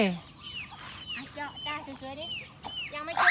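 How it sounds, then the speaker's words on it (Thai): Chickens cluck repeatedly at close range while gathering around for rice, with a person's voice speaking intermittently over them. "ไก่มารอกินข้าวนี่"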